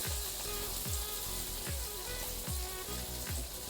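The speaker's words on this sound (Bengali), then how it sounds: "তো আলুটা দিয়ে আমি এইভাবে ভেজে নিই।" Potato pieces fry in hot oil with turmeric and spices for a Bengali jute leaf prawn curry, giving a steady, loud sizzle with repeated low clunks of a spatula stirring the pan.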